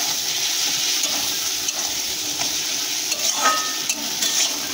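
Onion, spices and chilli powder sauté in oil in a pan for a tangra fish curry, a steady close sizzle with occasional scraping stirs throughout.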